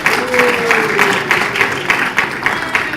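Audience at a mayoral debate applauding, dense steady clapping from a crowd with a faint tonal hum underneath, sustained for the whole stretch.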